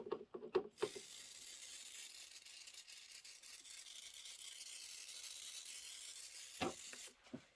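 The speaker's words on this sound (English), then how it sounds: "I'm going to give it a little shot of spray." An aerosol spray can sprays adhesive onto chenille fabric for a hot pad, making a steady hiss for about six seconds. The spray is framed by brief clicks and fabric handling noises at the start and end.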